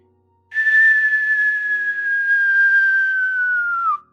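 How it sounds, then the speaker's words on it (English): A single long whistle, a sound effect during a tabletop role-playing session, rises in sharply and holds one steady, slightly falling pitch for about three and a half seconds before cutting off, loud and alone. "All of you guys hear a whistle,"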